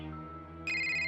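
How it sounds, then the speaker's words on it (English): A cell phone ringtone starts partway through, a bright, steady electronic ring tone that enters abruptly over a low sustained background and holds loud to the end. "I woke up the next morning, still a little drunk to the sound of my cell phone ringing"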